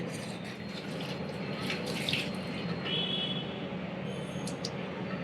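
Water pours steadily into a pot of village-style mutton curry for about five seconds, a continuous close splashing rush with no one talking.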